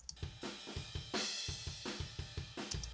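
A rock drum kit plays a steady groove captured by a mono room microphone in front of the kit, with kick, snare hits and washy cymbals blending together.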